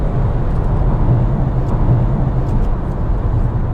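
Steady low engine and road rumble inside a 2025 VW Tiguan SEL with a turbocharged engine as it gets up to speed, a continuous broadband drone with no clear rise in pitch, and no voices.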